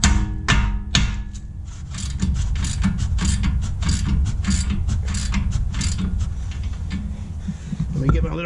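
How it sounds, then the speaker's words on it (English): A ratchet wrench cranks down on a nut in a workshop, a steady run of quick close metallic clicks with a few sharper knocks at the start and end. "we're just going to crank down on this until it pops"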